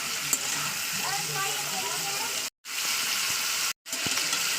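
Chicken fries over a high gas flame in a loud, dense, continuous sizzle with some stirring, cut by two brief moments of silence.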